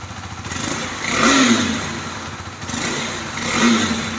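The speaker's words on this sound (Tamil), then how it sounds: "எக்ஸாஸ்டோட பீட்டை வந்து கேட்குறீங்க" Exhaust note of a 2022 KTM RC 390 motorcycle with an upswept exhaust, revved twice in close succession, each blip rising and falling over a steady idle, heard up close and loud with no talk.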